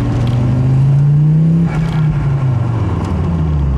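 An Audi Sport quattro engine drones loudly inside a poorly insulated cabin, a steady, heavy hum whose pitch climbs slightly, then eases and sags as the car drives on, with no talking.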